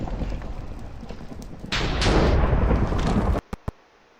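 Loud explosions boom through a video intro scene, a sustained rumbling blast building midway, then two short sharp pops after a sudden cutoff.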